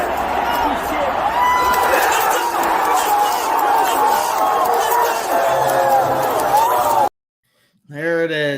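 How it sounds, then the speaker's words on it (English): Chicago Bears fans clap and roar in the stands at an NFL game against the Raiders, a dense, steady crowd wash. It cuts to near silence before a single voice starts speaking. "You can hear the Bears fans clapping back at the Raiders fans"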